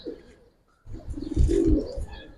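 Pigeons, Bagha and silver giribaz breeds, coo in a low, throaty series that starts after a brief near-silence and carries on close and fairly loud.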